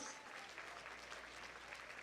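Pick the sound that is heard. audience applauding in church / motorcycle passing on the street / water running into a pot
audience applauding in church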